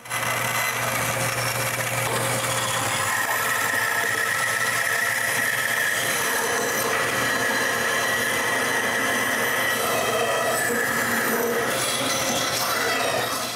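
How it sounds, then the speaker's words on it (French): A homemade wooden band saw cuts through wood for handles, a steady rasping blade drone with a continuous rubbing hiss that runs close and even throughout. "ça marche comme un charme, cette scie à ruban-là."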